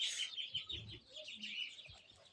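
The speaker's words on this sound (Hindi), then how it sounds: "पहले मुर्गों को खोल लेते हैं।" Chickens and roosters at a village coop cluck and chirp in short, faint calls against a steady high-pitched background, with no talking.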